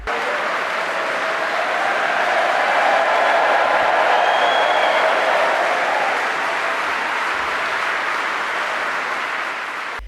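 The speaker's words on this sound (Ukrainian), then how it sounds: "Зеленського зустріли гучними оваціями." Sustained applause fills the British parliament as a large audience gives an ovation, a loud, even wash of many hands clapping continuously for ten seconds, swelling slightly mid-way.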